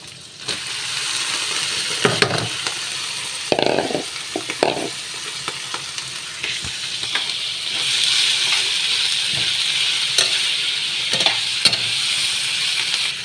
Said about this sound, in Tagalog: Tapos ilalagay ko yung lalagay ko na yung aking uh, repolyo na hiniwa-hiwa.